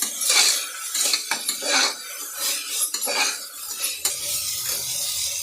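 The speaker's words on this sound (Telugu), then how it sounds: "ఇది కొంచెం పచ్చి స్మెల్ పోయే వరకు వేయించుకోవాలా." Ginger garlic paste frying in a pan for a horsegram biryani as a metal spatula scrapes and stirs it in quick, close, repeated strokes, with only a faint sizzle underneath. No talking.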